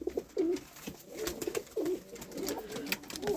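A young male pigeon coos close by in a repeated series of soft, throaty, rolling calls, with light rustling between the phrases.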